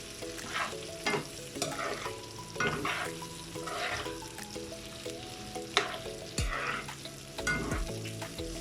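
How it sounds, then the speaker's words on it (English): Paneer and chickpeas frying in a pan for a vegetarian biryani: a steady close sizzle of oil with repeated scraping stirs and small clatters throughout, no voices. "So we're just going to let this fry now for 5 minutes."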